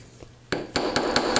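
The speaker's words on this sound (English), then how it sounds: "I'm going to flip this over and hammer this other side" Hammer strikes on a 15-gauge metal jewelry pendant in a studio workshop: five sharp metallic taps, the first after a quiet half-second, then a steady even rhythm, close and fairly loud.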